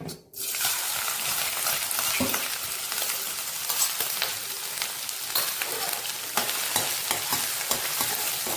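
Finely chopped ginger and garlic hit hot oil in a pan, setting off a loud, continuous crackling sizzle right up close, dotted with small pops and a few stirring scrapes and no talking.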